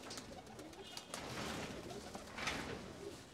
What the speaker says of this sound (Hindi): इसमें भी सब ये उड़ने वाले कबूतर हैं सारे